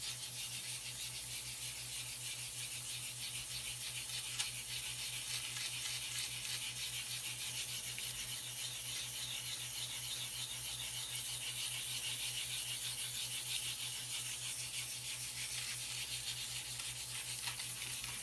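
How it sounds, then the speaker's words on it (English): Small piece of sandpaper rubbed in circular motions over a 3D printer's flexible build plate, a continuous close, even abrasive scrubbing that holds steady throughout with no talking. "take just a little piece of sandpaper and just go in some circular motions"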